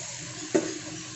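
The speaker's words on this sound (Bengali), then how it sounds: "এবারে আমি ম্যারিনেট করে রাখা চিকেনের স্কিন কিংবা চিকেন দিয়ে দেবো।" Marinated chicken skin hits hot spiced oil in a pan and sizzles steadily, with one brief louder stir or scrape at the middle; close and alone.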